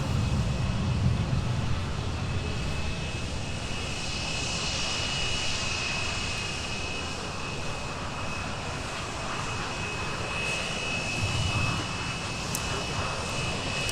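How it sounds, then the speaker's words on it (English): A United Airbus A319 jet taxis past at an airport, its engines a steady broad roar with a thin high whine running throughout, fairly distant and even in loudness. "as we watch a United 319 taxi right in front of us here"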